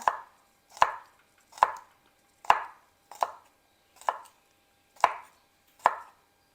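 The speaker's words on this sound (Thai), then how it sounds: "หั่นกระเทียมก่อนค่ะทุกคนค่ะ" Eight crisp knife chops through garlic on a cutting board, evenly spaced at a slow steady rhythm, close and clear against near silence.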